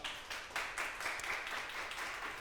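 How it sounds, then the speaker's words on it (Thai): Faint, distant audience clapping at a company presentation, coming in uneven bursts of hand claps that continue throughout. "ปรบมือให้อัตโทมี่ของเราครับ"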